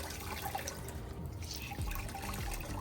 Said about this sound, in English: And I want to squeeze this towel out.